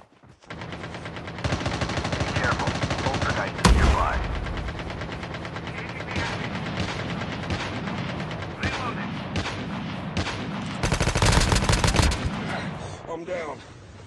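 A loud missile strike and sustained gunfire in an online video game, with a sharp blast near the start and rapid bursts of fire throughout, with voices talking under the action.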